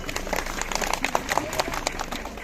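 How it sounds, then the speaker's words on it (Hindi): A crowd claps for an IAS officer at a local gathering in the Darma valley, uneven scattered applause with bursts of louder claps, fairly near, with some voices mixed in. "तो एक बार जोरदार तालियां IAS महोदय के लिए"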